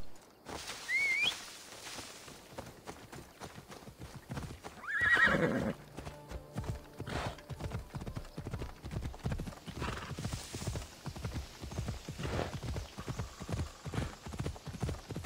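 A horse in the video game Assassin's Creed Odyssey clip-clops at a steady hoofbeat rhythm throughout, with a loud whinny near the start and another neigh around the middle, close and clear.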